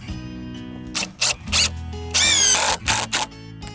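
A power drill drives screws into a raised garden bed board: several short whirring bursts close by, then a longer run whose motor pitch climbs as the screw seats, followed by two more brief bursts.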